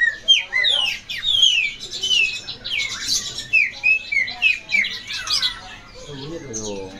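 A small male bush lark sings a busy run of sharp chirps and whistled squawks, close and lively, with people murmuring quietly in the background.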